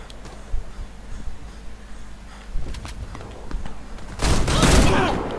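Rapid gunfire from a Fabarm STF 12 Compact shotgun in the shooter game Warface, scattered sharp shots building into a loud dense burst of fire near the end.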